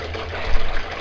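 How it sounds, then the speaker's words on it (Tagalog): Water flowing on a farm, a short, steady rush of pouring liquid with a slight surge midway, close and fairly loud, no talking. "Yan ang tubig ini, oh."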